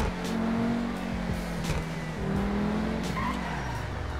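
A weaponized Pegassi Ignus supercar in GTA Online accelerates hard with a loud, rising engine whine and tire squeal, its revs sweeping up and down through gear changes, close and continuous with no talk.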